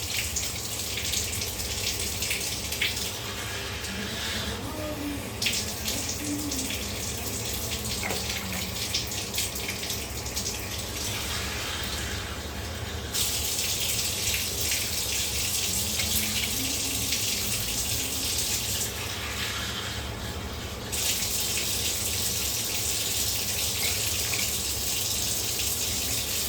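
Water runs steadily into a cooking pot on a home stove, a continuous tap-like gush that pauses briefly a few times before resuming, close and fairly loud with no talk over it.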